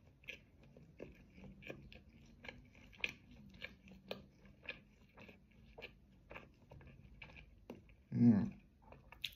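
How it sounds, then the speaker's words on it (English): Close, crisp crunching and biting into the crust of a wood-fired, long-fermented white loaf, with irregular short crackles and one louder bite near the end; no talking. "As you eat more of the crust, as I'm eating more of the crust,"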